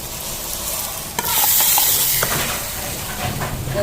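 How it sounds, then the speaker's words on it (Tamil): Ghee-fried cashews and raisins tipped into boiling payasam and stirred, a sudden burst of loud sizzling hiss that settles into steady bubbling with a few clinks of the spoon, no talk. "கஜுவையும் பிளம்ஸையும் நெய்யில் வறுத்தாச்சு இது சேர்ப்போம்"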